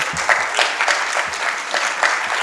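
Summit breakout-session audience claps for alumni, a brief round of moderately loud applause with individual hand claps standing out over a short stretch.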